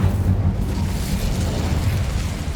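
Burst of a fire spell cast in Hogwarts Legacy, a short whooshing boom at the start that settles into a loud, dense rumble lasting a couple of seconds, no voices.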